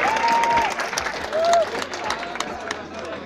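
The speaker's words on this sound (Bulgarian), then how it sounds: "окей, аплодисменти за тези пичове." A live audience at a spring show claps and applauds steadily, a mid-distance crowd sound with a couple of brief whistles over it.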